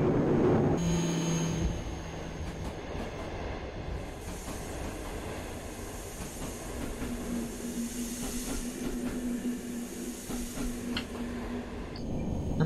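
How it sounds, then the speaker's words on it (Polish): Train wagons braking in the MaSzyna train simulator game, a sustained rolling rumble with a steady hiss, a faint squealing tone and clicking wheels, loud and continuous with no talk. "Dobrze hamują te wagony."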